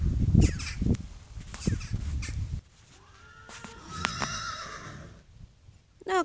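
A horse at a stable and training ground neighs loudly and nearby, one drawn-out whinny rising and falling, with hoof clops and outdoor background sound around it.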